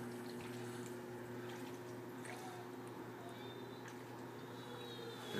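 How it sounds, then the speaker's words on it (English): Water draining through an overflow system on a 75-gallon aquarium, a soft continuous trickle and gurgle over a steady hum of pumps, quiet and close. "You can see the water level is already draining."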